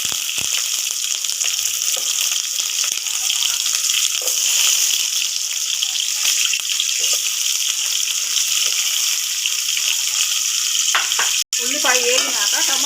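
Onion frying in hot oil with cumin and fenugreek for a masala vada curry: a loud, dense, steady sizzle and crackle running throughout, close up, with a brief gap near the end.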